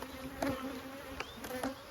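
Honeybees buzzing inside a hive during a yard inspection, a dense steady drone close by with a few brief louder swells as individual bees pass near.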